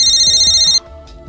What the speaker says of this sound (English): call your mobile phone to inform you when there's an intrusion.